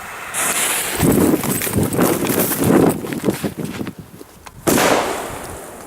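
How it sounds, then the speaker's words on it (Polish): A loud burst as a firecracker explodes in sand, followed by scattered crunching and debris patter, then a second sharp thump near the end, close by outdoors. "Ale ładny wybuch, nie? Jak na filmach jakiś bomba czy coś w ziemi."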